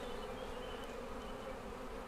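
Honeybees buzzing steadily at an acacia honey beehive, a dense, continuous drone close by with no voices.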